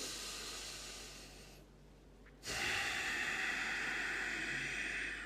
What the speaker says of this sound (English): So 5 seconds in through the nose